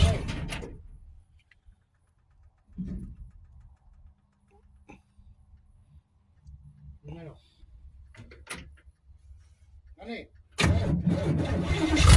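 A 1955 car with no brakes turns over in brief separated bursts of cranking, then catches into a loud, steady running engine at the end, with someone speaking in between.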